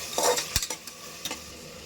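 Prawns sautéing with onion, tomato and turmeric in a pan, with a few sharp utensil scrapes and clinks over a soft sizzle, close and moderately loud, with no one speaking.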